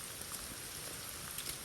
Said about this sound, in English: it's constant rain right now